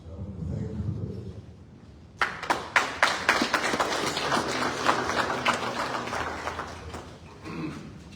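An audience bursts into loud, sustained applause at a souvenir program chaired by President Boakai for an inter-ministerial committee. Murmuring crowd noise comes first, then dense clapping lasts several seconds before fading out.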